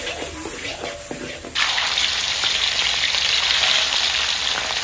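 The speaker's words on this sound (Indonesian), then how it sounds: "Sekarang kita tumis ya. Kita tumis sampai kasat gitu." Curly chili peppers dry-sautéed in a pan without oil, giving a bright crackling sizzle that starts abruptly partway through and continues steadily, close and fairly loud, after a quieter stretch of faint kitchen clatter.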